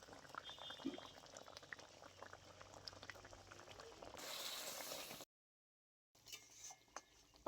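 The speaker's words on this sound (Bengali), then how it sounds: "পাবদা মাছটা ঝোলের মধ্যে দিয়ে বেশ কিছুক্ষণ ফুটিয়ে নিয়েছি" Pabda fish curry with kalojira and green chili bubbles softly in a pan, a faint steady simmer broken by a brief louder hissing burst, a moment of silence, then quiet bubbling again.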